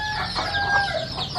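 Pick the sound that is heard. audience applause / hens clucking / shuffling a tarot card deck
hens clucking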